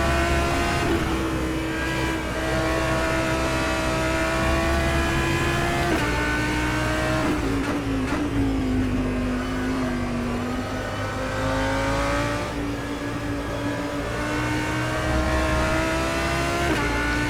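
A GT3 race car engine drones continuously through a lap at Mugello in the rFactor 2 racing game, its pitch climbing through each gear, dipping on shifts and braking, then rising again, loud and close throughout.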